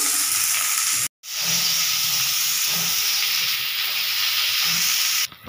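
Onion and tangra fish fry in a pan with a constant loud sizzling hiss, briefly cut off early, alongside occasional soft stirring scrapes.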